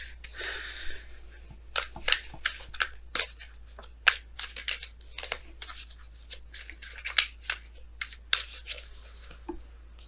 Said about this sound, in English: Let's go ahead and pull your romance angels cards for today